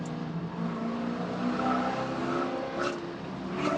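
A Spec Corvette race car at Buttonwillow Raceway roars past nearby with a sustained, loud engine drone and shifting pitch, with faint tire squeal during the race.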